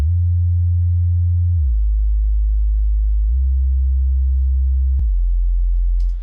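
A deep synthesized sub-bass tone drones steadily, shifting pitch a couple of times, with a single sharp click near the end before it cuts off.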